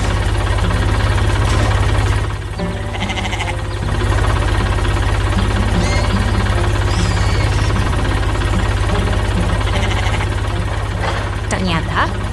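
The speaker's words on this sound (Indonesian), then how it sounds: "Ternyata, sebuah truk derek kuning yang perkasa datang untuk memberikan pertolongan." A yellow tow truck in an animated construction cartoon arrives with a loud, steady engine drone that runs throughout, briefly dipping once.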